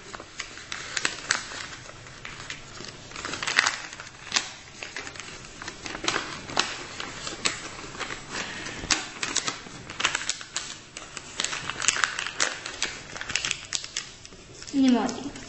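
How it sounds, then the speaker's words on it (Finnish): Paper being folded and creased by hand into an origami viking, with crisp crackles, taps and rustles coming close and steadily throughout, while a voice speaks over it. "Siis ma võtan ühe selle nurga ja murran selle alla."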